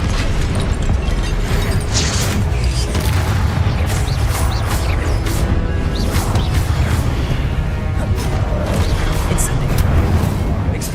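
Spell blasts in Hogwarts Legacy hit in rapid succession, with booming bursts and crackling impacts repeating densely throughout, loud and busy, while a voice talks over them.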